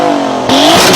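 The Ferrari-derived 2.9-litre twin-turbo V6 in an Alfa Romeo Giulia Quadrifoglio revs hard, rising sharply from a steady idle into a loud, close, climbing roar within about a second.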